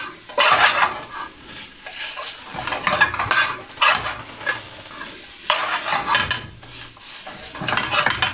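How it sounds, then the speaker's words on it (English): Chickpeas with chili powder are stirred in a hot pan for a British Indian restaurant chana masala, a spoon scraping in repeated bursts over a steady sizzle, close and without talk. "Mix it with the chickpeas guys"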